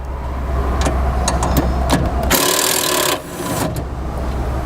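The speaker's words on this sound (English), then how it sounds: "Then we'll take a screwdriver and remove that screw." A screw being removed with a screwdriver during accessory wiring on a 2016 Ford Taurus, close scraping and grinding turns with a few sharp clicks and a louder rasping burst near the middle.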